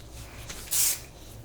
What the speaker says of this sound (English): So I just spray it.